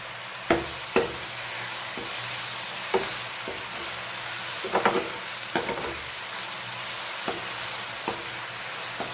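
Tomatoes fry for pav bhaji, a constant close hiss of sizzling broken by sharp scraping and tapping of a spoon stirring the pan at irregular intervals.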